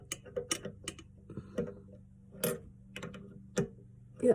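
A 1/2-inch wrench loosening a nut on a bathroom toilet seat fixture ratchets in quick, irregular metallic clicks up close, a series of sharp ticks with short pauses between.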